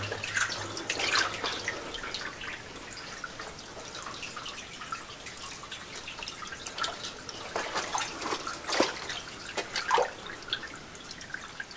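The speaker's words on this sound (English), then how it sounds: "There's a lot of water flowing through this mine." Water running and dripping inside the old Tyrconnel mine adit, a steady wash of trickling flow with scattered sharp drips echoing close by, louder splashes near the end and no voices.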